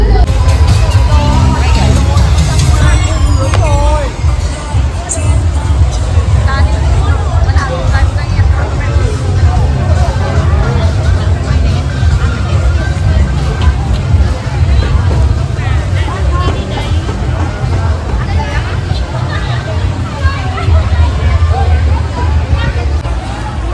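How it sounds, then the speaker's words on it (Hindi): A dense, loud crowd babble at Grand World in Hanoi: many overlapping voices form a steady hubbub throughout, with a low rumble beneath and no single speaker standing out. "बट यहाँ तो बहुत भीड़ है।"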